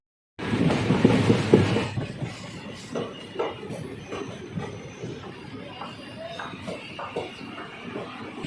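Naini Janshatabdi Express train rolling over rails through a scenic valley at moderate speed, a steady rumble with rhythmic wheel clatter, loudest near the start and then easing to a continuous, moderately loud running noise.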